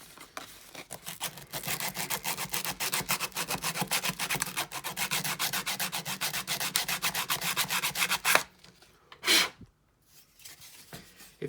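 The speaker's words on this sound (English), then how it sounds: "I think what I'd like to do is get some sandpaper down there." Sandpaper rubs back and forth on a wooden model ship in a steady, close rasping rhythm for about eight seconds, then stops, followed by a single brief scrape and near silence.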